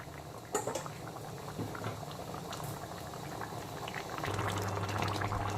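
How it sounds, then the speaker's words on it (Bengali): Jackfruit and potato curry bubbling in a pan over full flame, a steady close boil with popping and gurgling that grows slightly louder near the end, no talk. "আবারও এঁচোড় আলু ভালো করে ফুল আঁচে রান্না করে নিলাম"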